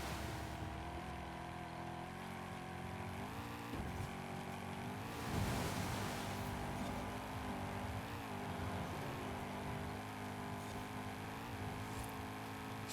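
Race car engine in Forza Horizon 5 holding 5th gear, a steady sustained drone with harmonic bands that rise and dip slightly as revs shift, continuous and fairly loud throughout.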